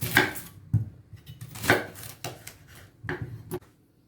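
A kitchen knife slicing a red onion thinly on a cutting board for an avocado, tomato and cucumber salad, with several crisp separate chops spaced irregularly, close and clear, no voices.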